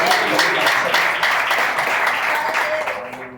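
A church congregation applauds steadily and loudly throughout, dense clapping that tapers slightly near the end.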